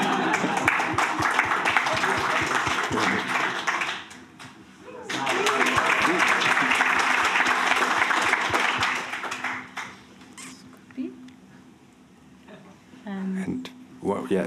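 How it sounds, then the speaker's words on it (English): An audience at a programming conference session claps in two dense bursts separated by a short pause, then the clapping thins out as a few people talk quietly. "That gets us more applause."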